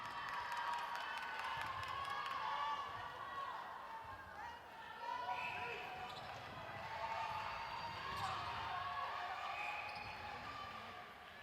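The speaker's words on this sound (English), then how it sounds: "Crowd have lasted well this day, and they are making lots of noise for these two teams" A netball crowd at the Netball World Youth Cup keeps up a steady roar of cheering and shouting through the match, with ball bounces and a commentator talking over the din.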